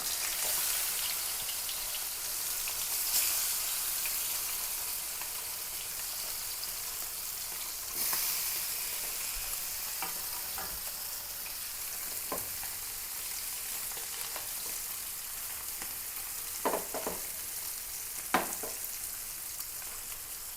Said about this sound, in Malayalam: നമ്മൾ മീൻ വറുക്കാനായിട്ട് പോകുന്നത്